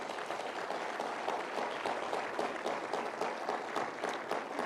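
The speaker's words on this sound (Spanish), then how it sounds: "un aplauso más para el Señor." Congregation applauding steadily at an evangelistic campaign's Bible seminar, a dense, even wash of many hands clapping at moderate loudness for the whole stretch, with no voice over it.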